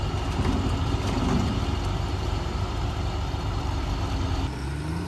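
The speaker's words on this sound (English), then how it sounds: "Three tractors." Three tractors idle together during a trailer-loading job, a steady low engine rumble that runs unbroken and fairly loud before easing slightly at the end.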